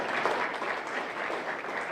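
Audience applause at a Sanpete's Got Talent show as the master of ceremonies takes the stage, a dense, steady wash of many hands clapping throughout with no voices over it.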